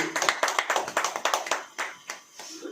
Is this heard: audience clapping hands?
yes